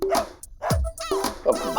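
A dog barks in short, sharp bursts, several yips and barks spread across a couple of seconds, fairly close and loud, with a tense household scene around it.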